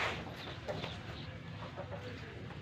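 Chickens and roosters cluck and call in a bird aviary, a steady mix of overlapping poultry voices against constant outdoor background noise, with no talking.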